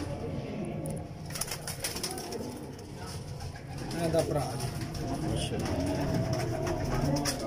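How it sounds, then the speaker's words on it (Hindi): Pigeons coo in soft, repeated low phrases, close by, over a constant background murmur with some talking. "कैसे खूबसूरत कबूतर।"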